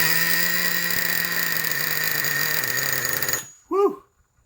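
A Traxxas Revo 3.3 nitro RC truck engine runs with a loud, steady high-pitched whine, then cuts out abruptly, followed by a brief voice.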